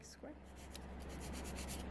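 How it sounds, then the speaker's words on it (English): A coarse 100/100 grit hand file rasps back and forth across acrylic nail tips in quick, repeated strokes, producing a soft scratchy rubbing close to the microphone. "we're going to use our Mia Secret 100-100 grit hand file."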